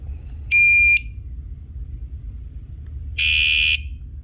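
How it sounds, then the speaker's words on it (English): An electronic kayak alarm gives two loud, harsh buzzes, each about half a second long, separated by a few seconds of quiet room hum. "that's an annoying buzz"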